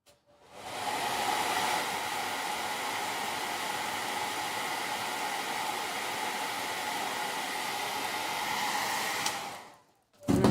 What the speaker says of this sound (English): So I'm going to give that a little bit more blow dry.